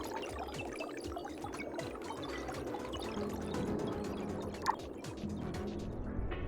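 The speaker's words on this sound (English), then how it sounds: "The water level is rising." Soft, continuous pouring and bubbling of rising water in the Mars terraforming game Per Aspera, a faint steady liquid rush with scattered drips and one brief louder splash near the end.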